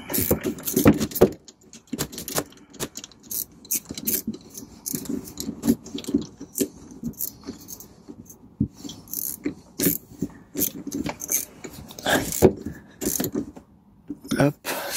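A 10 mm socket and ratchet working on the battery fitting of a BMW E91, with repeated metallic clicks and clinks in short bursts, close by, interspersed with rustling handling noise.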